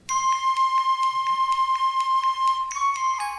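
A recording of a song: a steady, bright tonal melody pulsing in even beats, loud and close, with the pitch shifting near the end and no voices over it.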